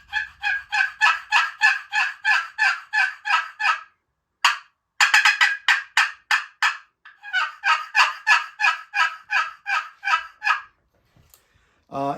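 A wooden friction turkey call with a chalked striker surface, played in long runs of rapid, evenly spaced yelps imitating a turkey, loud and close, with brief pauses between series and no talking.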